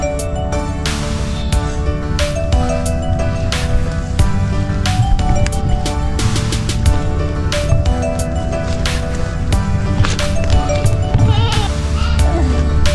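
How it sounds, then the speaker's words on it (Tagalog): Goats on a farm bleat repeatedly in overlapping calls, some near and loud, others further back, over a busy background of rustling and movement, with no clear speech. "Yan po, mga kambing nila."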